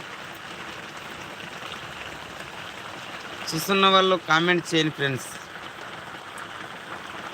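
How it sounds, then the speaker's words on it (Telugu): Rain falls steadily on a makeshift shepherds' shelter, a soft continuous patter throughout, with someone speaking briefly over it midway. "వర్షం అయితే వస్తూనే ఉంది"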